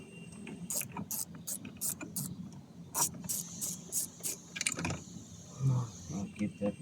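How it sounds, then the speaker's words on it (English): A ratchet clicks in quick bursts while backing out screws from a Chery Tiggo 4 Pro centre console, several close rapid ratcheting runs separated by pauses, with softer handling noises near the end. "you're gonna need a Phillips screwdriver or a ratchet like I'm using."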